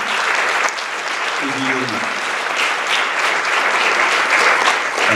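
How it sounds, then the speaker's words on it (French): A hall audience applauds a local ethics team at a care home event, steady dense clapping throughout, with a brief spoken name heard over it midway. "on peut applaudir Mylène et toute l'équipe de l'espace éthique"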